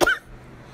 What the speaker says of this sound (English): You're going to hear me cough a lot